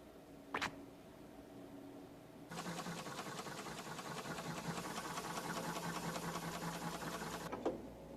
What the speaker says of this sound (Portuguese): Esta máquina de soldar utiliza a mais moderna tecnologia.